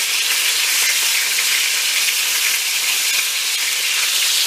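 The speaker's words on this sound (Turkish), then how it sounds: "Burada bunları nar gibi kızartacağız." Loud, steady sizzling of chicken frying in a hot pan, a constant bright crackle and hiss with no voices.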